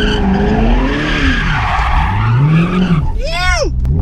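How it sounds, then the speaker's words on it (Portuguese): A Corvette does a burnout, its tires squealing loudly and continuously over a roaring engine, close by, with voices talking through it. "Estamos fritando aqui o pneu do Corvetão."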